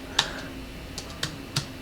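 Sparse computer keyboard keystrokes during a livestreamed Total Carnage game session, with four isolated, fairly quiet clicks spread out irregularly and no talk.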